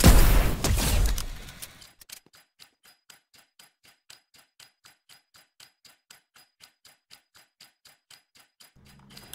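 A weapon fires at a target dummy in Fortnite as a long steady run of evenly spaced, sharp single shots. A loud, dense burst of noise comes first and then cuts off into the crisp repeating reports.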